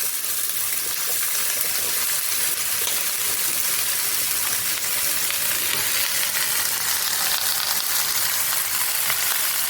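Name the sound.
pumpkin greens and stalks frying with potatoes and bori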